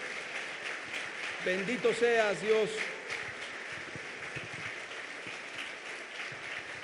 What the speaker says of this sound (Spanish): Démosle un aplauso a Jesús, por favor.